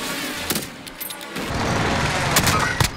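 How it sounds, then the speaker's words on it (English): Allied precision airstrike in a battle-royale video game: a few sharp blasts and booms hit amid a dense, continuous wash of battle noise, rising in intensity through the second half. "Allied precision airstrike incoming."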